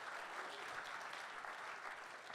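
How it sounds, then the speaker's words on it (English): Steady applause from a live concert audience: dense, continuous clapping at an even, moderate level for the whole stretch, with no voices over it. "Let's get some clapping."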